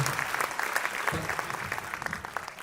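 An indoor audience applauds in a dense, continuous patter of clapping, steady and close throughout, with a faint voice or two mixed underneath.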